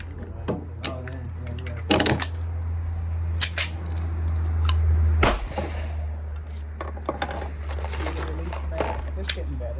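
Glock 43X pistol shots at an outdoor shooting range: several sharp, loud cracks spaced irregularly, with a low steady hum and people talking between shots.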